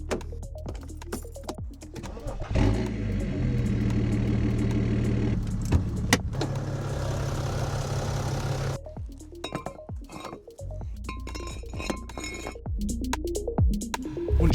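A car engine starts and idles close by while warming up before a service, its low steady hum running for several seconds amid clicks, clinks and handling noises, then fading back to intermittent knocks.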